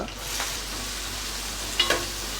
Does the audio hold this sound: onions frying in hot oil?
yes